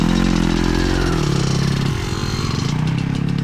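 An 80 HP Stark Varg electric motocross bike riding a track, heard as a loud close whine and drone with a few pitch shifts as it accelerates.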